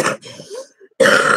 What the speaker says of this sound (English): I've got a nasty cough